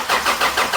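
A Honda Del Sol with brand-new headers and exhaust cranks and fires in a short, quick burst of starter whir catching into the engine, close and clear.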